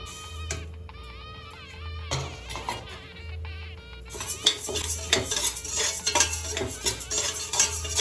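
Moong dal is dry-roasted in a pan for ashoka halwa, with a quiet tonal hum at first, then louder rattling, scraping stirs and the gritty patter of lentils against metal.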